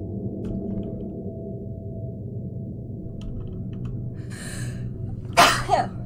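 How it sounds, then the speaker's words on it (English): A single sharp sneeze near the end, preceded by quiet breathing over a low steady background hum during a horror game session. "I have to sneeze"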